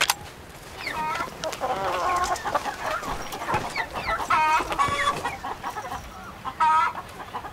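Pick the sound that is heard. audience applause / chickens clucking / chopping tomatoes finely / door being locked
chickens clucking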